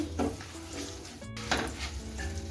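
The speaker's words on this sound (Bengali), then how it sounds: "এখন আমি 2টো তেজপাতা দিয়ে দিচ্ছি। তেজপাতাটা একটু ভেজে নিচ্ছি।" Two bay leaves and tempering spices fry in melted butter in a pan, a steady low sizzle with faint clinks of a utensil against the pan.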